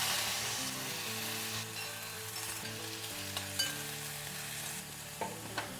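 Radish pods (dingri) cook in hot oil with mustard seeds and turmeric, giving a soft, continuous sizzle with a few light clicks and stirring taps over a low steady hum.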